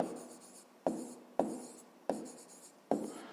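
A pen writes on paper during a fifth-grade maths exercise, five sharp scratching strokes up close, each starting with a tap and fading, spaced roughly half a second to a second apart with no talk.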